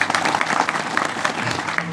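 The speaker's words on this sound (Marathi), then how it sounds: "दोघा जणांसाठी एकदा टाळ्या वाजवा." An audience at a kirtan devotional singing programme claps for two singers, a dense continuous burst of applause from a crowd, steady and fairly loud throughout with no talk.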